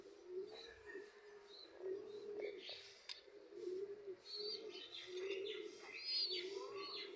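Young pigeons in a loft coo softly and repeatedly, with scattered chirps and faint wing shuffles, a voice speaking quietly now and then in the background.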